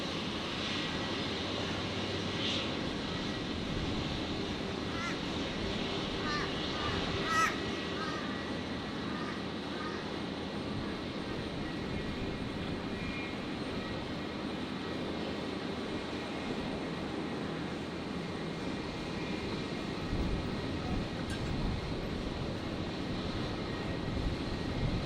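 A Velocity 472 airliner lining up on runway 01 right at Brisbane International Airport, its engines giving a steady, broad, distant roar that stays level throughout, with faint radio voices at times.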